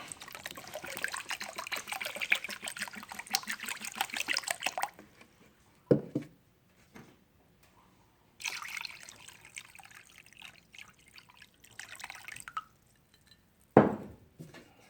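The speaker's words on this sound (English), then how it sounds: "I'll pour a little of this in there now." Water poured into a container while cleaning vintage hammers, heard as two bursts of close trickling and splashing separated by quiet, with a few sharp knocks of the vessel in between.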